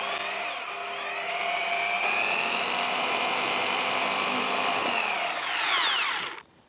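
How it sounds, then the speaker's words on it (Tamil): Power drill boring a hole through a PVC sheet: a loud, steady, close whine for several seconds that rises in pitch near the end before cutting off abruptly. "அதில் ட்ரில் பண்ணி ஒரு ஓட்டை ஒன்று போட்டுக்கிறேன்."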